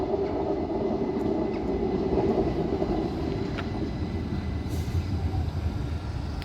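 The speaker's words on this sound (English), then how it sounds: "And arriving in now is another train which I actually didn't expect." A Class 387 electric train pulls into Lewes station with a steady, loud rumble of wheels and traction noise that holds throughout, sharpened by brief squeals and clanks near the end.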